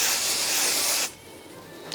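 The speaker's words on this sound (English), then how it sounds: "I'm gonna spray the stabilizer." A steady, close hiss of aerosol stabilizer spray used for sweatshirt appliqué embroidery fills the first second, then cuts off abruptly, leaving a quiet room tone with a brief faint tick near the end.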